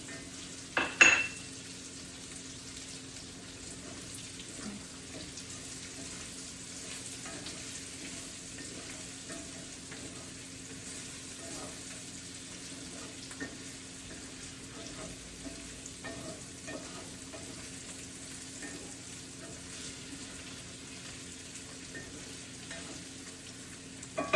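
Butternut squash with oregano is stirred in a pan, giving a faint, steady low sizzle with soft scraping and a light clink of utensil on the pan near the start, quiet and without talk.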